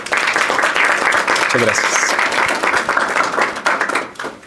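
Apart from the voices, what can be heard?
applause for the speaker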